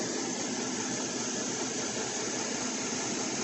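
A 2012 GMC Chevy 5.3 engine runs steadily as its rpm rises, a constant broadband roar with no voices over it.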